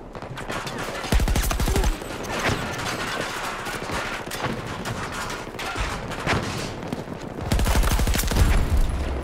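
Suppressed gunfire from Battlefield 2042, with rapid bursts of automatic shots that come and go over roughly nine seconds, loudest near the start and end, against continuous battle noise.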